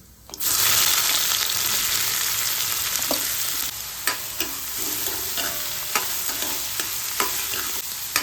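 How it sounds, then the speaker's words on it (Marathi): Onion fries in a pan until browning, starting with a sudden loud sizzle that settles into a steady hiss, broken by a series of light stirring clicks and scrapes, close and without speech. "आता हा कांदा आपण छान असा ब्राऊन कलर होईपर्यंत भाजायचा आहे, खरपूस होईपर्यंत"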